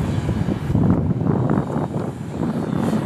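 A radio-controlled F-4 Phantom model jet flies on a windy day, its steady engine roar carrying from a moderate distance with gusts of wind noise buffeting the microphone.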